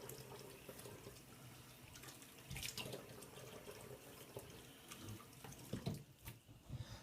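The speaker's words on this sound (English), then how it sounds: "Let me rinse my face off here." A bathroom tap runs into a sink while someone rinses their face, a faint steady flow of water broken by a few brief splashes near the end, heard without speech.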